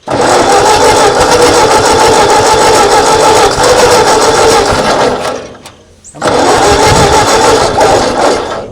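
A 1939 Ford tractor engine, left sitting in a field for over 20 years, cranks and sputters loudly and steadily, cuts out briefly, then catches again and keeps churning close by.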